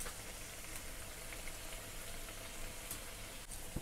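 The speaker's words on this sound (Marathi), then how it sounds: "तर दोन्ही साईडनं छान अशा तळून घ्यायच्या त्या." Karanji pastries deep-fry in a pan of hot oil, a faint, steady, even hiss of bubbling oil running continuously with no talk.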